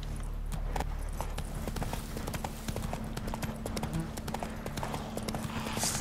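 Horse hooves in The Witcher 3 clip-clop in a quick, steady galloping rhythm throughout, with faint game sounds in the background.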